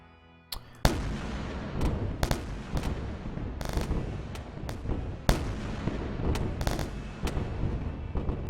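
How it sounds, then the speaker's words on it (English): Small rocket weapon in the space game Wayward Terran Frontier: Zero Falls, firing repeatedly as sharp launch cracks and booms over a rumbling, busy backdrop, loud and irregularly spaced. "We've also got the small rocket now. Interesting. Kinda does what you expect. It shoots out a rocket."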